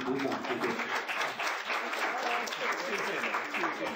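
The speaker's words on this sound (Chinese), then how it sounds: "请鼓掌" Audience applause at a 2001 visit to the Liugui orphanage in Kaohsiung, steady dense clapping from a crowd filling the whole stretch, with a voice speaking over it near the start.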